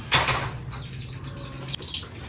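Pigeons and lovebirds flap their wings close by in a couple of sudden, loud fluttering bursts, with a few faint chirps in between.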